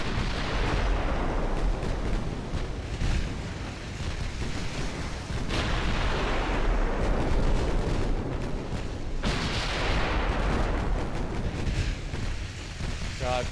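Casemate guns firing on a warship in Ultimate Admiral Dreadnoughts naval combat: dense, continuous rumbling gunfire with repeated booms layered into a loud, steady battle roar, swelling in waves with no pause.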